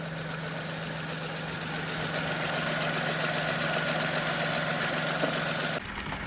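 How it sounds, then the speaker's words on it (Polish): An Opel Agila's small three-cylinder engine idles steadily up close with a low, even hum and faint knocking vibration, ending with a brief shuffle of handling noise. "No takie trzycylindrowy dźwięk"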